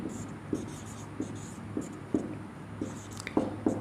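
Pen or chalk writing out a coordinate geometry problem, a series of soft scratchy strokes and light taps in an uneven rhythm, close and quiet, with a voice faintly underneath.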